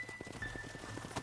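Horses in the western game Red Dead Redemption, soft clip-clopping hooves and shuffling as riders dismount, quiet and brief.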